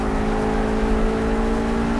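The 540-horsepower RUF RGT 8 in Project CARS drones steadily on a hot lap at Eifelwald, a loud sustained engine tone with strong harmonics holding an even pitch, close and alone.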